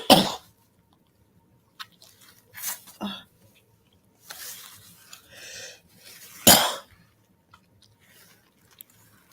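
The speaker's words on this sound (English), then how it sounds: "I started coughing, it just came out of nowhere." A woman's sudden coughing fit: a few sharp, close coughs in separate bursts with quiet gaps between, the loudest near the start and another strong one later.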